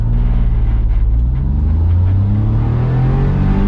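A Smart ForTwo 450 pulling away from a standstill on an open road, its engine a loud, steady low rumble heard from inside the car without any talk.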